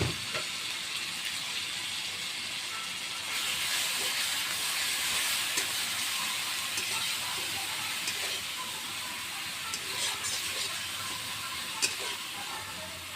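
Grated onion frying in hot oil for a paneer dish gives a steady, loud broadband sizzle that swells after a few seconds and carries on throughout, with occasional small pops and crackles and no talking.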